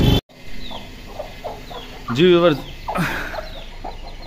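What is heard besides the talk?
hen clucking with her chicks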